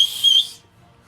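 A person imitates a whistling noise with the voice, a brief, thin, breathy high whistle lasting about half a second before cutting off into quiet.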